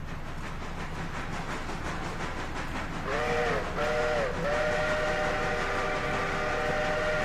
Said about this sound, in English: I like that whistle actually.